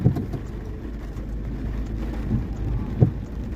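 Steady heavy typhoon rain roars throughout, with a low rumble of thunder and a couple of sharper bursts rising above the downpour.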